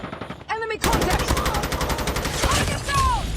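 Rapid bursts of automatic gunfire from an enemy's gun in a video game, loud and close, firing continuously for about three seconds after a brief electronic tone.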